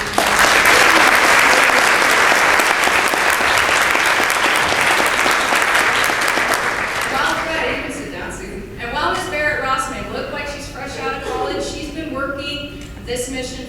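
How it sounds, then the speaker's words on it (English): Audience applause at an annual meeting in Korea, loud and sustained for about seven seconds before tapering into scattered claps as a voice begins speaking over the fading noise. "please give them a little bit of applause"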